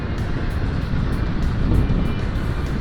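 A Triumph Street Triple motorcycle engine pulls from low revs in a steady, full-bodied roar, close and continuous with wind rush over the microphone and no voices.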